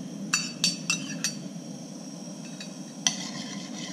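Shallots are stirred in melted butter in a pan: a soft, low sizzle runs underneath while a spoon clinks against the pan several times in quick succession, then once more after a pause.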